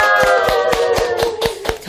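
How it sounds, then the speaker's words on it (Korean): Clapping in a studio talk session: evenly spaced claps land about four times a second over a sustained tonal hum, close and fairly loud, with no speech. "다시 한번 박수 보냅니다"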